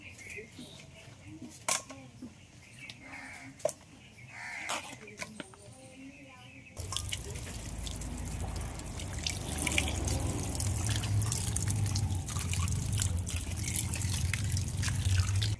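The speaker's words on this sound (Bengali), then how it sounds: "এবার মাছগুলো সব ধুয়ে নেব।" Fish pieces are washed under running water: a faint opening of light clinks and drips gives way to a steady, fairly loud rush of tap water splashing over them for the rest of the clip.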